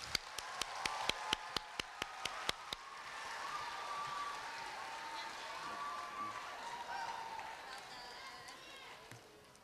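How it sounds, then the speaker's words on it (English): At a Korea University graduation ceremony, a hall audience claps after a performance, opening with sharp rhythmic claps that swell into sustained applause and cheering before tapering off. "let's give them another round of applause"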